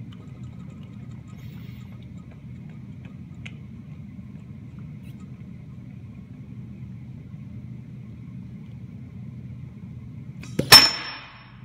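A 2-kilogram weight, held up by mouth suction, drops down with a single sharp metallic clang near the end, after a long stretch of quiet low hum.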